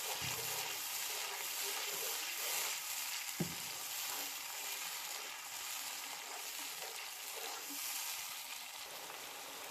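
Onion puree made from two medium onions sizzles and fries in hot oil in a pan, a steady crackling hiss with an occasional stir or clink, close and fairly quiet, no talking.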